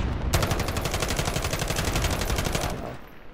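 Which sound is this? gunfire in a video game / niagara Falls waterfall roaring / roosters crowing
gunfire in a video game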